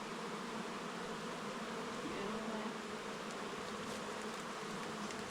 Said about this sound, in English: Already feel like nice calm bees.